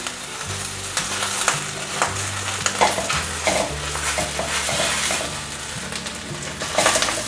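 A vegetarian Taiwanese oyster omelette sizzles steadily in a hot pan as it is flipped, with scraping and stirring sounds over soft background music and no talking.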